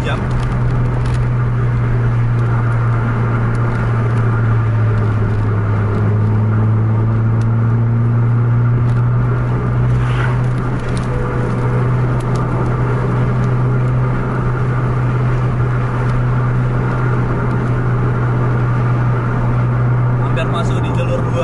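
Steady drone of a bus engine and road noise while cruising at about 100 km/h near Kuala Simpang, a constant low hum with tyre rumble filling the whole stretch, continuous and close.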